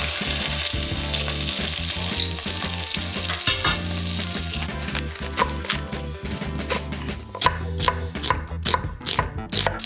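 A pot roast sears and browns in a hot pan, giving a loud, dense, continuous sizzle with crackling pops, close up with no talking.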